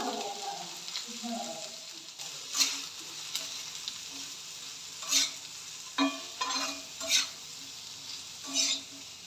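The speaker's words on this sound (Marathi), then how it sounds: "तीन कांदे उभे चिरून घेतले तर ते छान असे तेलात ना परतून घ्यायचे आपल्याला" Sliced onions frying in oil in a hot iron pan, a continuous sizzle broken by several sharp scraping stirs of a spatula against the metal, close and moderately loud.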